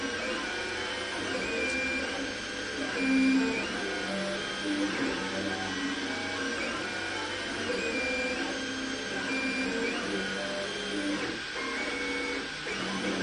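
An Apollo3D Saturn resin 3D printer runs with a steady mechanical whir and stepping motor tones that rise and shift in a repeating pattern, moderately quiet and continuous throughout.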